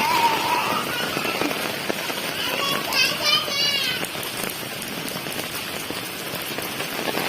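Heavy rain beats down outside a house with rainwater close to flooding in, a dense, loud patter on surfaces with children's voices and other voices faintly mixed in.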